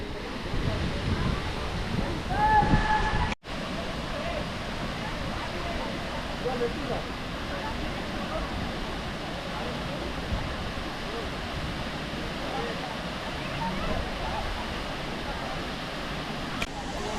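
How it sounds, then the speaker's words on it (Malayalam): Phe Phe waterfall in Meghalaya gives a steady, loud broadband rush of falling water with wind, continuous throughout, briefly louder and interrupted near the start. "വാട്ടർഫോൾ ഉണ്ടോ, ഫിഫി വാട്ടർഫോൾ."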